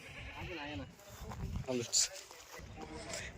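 Goats at a market bleat loudly nearby in a few wavering calls, mixed with someone talking and some background noise.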